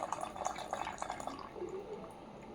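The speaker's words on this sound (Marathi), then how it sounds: "सर्वांना चहा ओतून येते" Tea poured from a pot into cups on a rooftop terrace, a steady close splashing trickle that eases off and softens toward the end, no talking.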